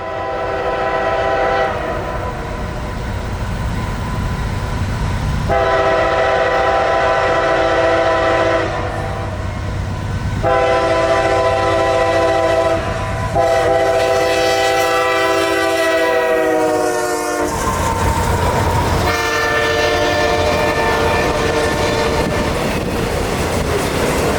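A long CSX freight train of auto racks led by an AC4400 locomotive rumbles past close by, wheels clattering steadily, with a loud horn sounding repeatedly over the roar.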